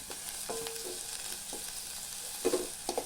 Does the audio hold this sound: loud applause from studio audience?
no